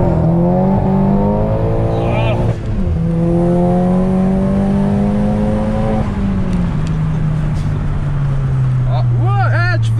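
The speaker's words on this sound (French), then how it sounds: "C'est ta double qui est déportée qui fait ce bruit-là ou c'est ton système d'admission?" A car engine revs hard with loud exhaust and intake noise, its pitch climbing and dropping through several pulls close by, while people talk over it.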